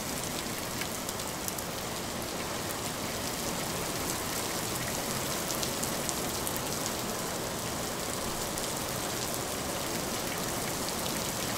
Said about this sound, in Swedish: Hur många skulle säga att det här regnet är ett bra angenämt ljud?